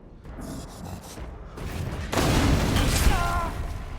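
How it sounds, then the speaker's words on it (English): An explosion in the video game Resident Evil Village, a sudden booming blast that swells into a sustained roaring rumble over a quieter ambient background, with muffled crackling and movement beforehand and a rising shriek toward the end. "Was kind of hoping the explosion would phase him."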